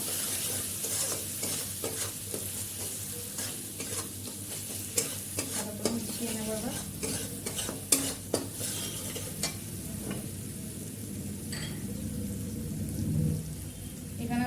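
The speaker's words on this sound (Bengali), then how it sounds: "একটু মশলাটা কষিয়ে নেব ভালো করে" Ginger paste and spices frying in a pan for a vegetarian soybean muitha dish, a steady close sizzle with repeated scraping and stirring strokes of a spatula against the pan throughout.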